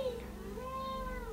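A house cat lets out a brief, close meow with a rising then falling pitch, heard indoors over a low steady background hum.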